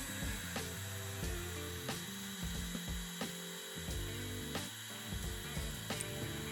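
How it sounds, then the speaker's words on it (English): A router bit trims the raised ridge off a Harman Titan 4x5 film holder, a steady loud whine with repeated sharp cutting bursts as the holder is passed across the bit, no talking. "I committed and just ran that film holder right across the router bit"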